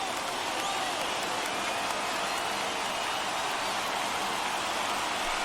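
A stadium crowd of over 39,000 roars on its feet during a baseball game in MLB The Show 21. It is a steady, dense wash of cheering that stays at an even level, with no voices standing out.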